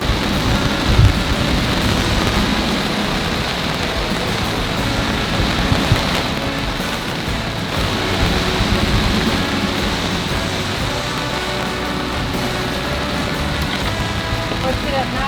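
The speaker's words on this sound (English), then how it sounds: "We have a lot of the squall left." Heavy rain squall at sea aboard a sailing boat in the Bermuda Triangle, a dense steady hiss of rain and wind filling the whole clip, with faint low rumbles beneath and occasional voices.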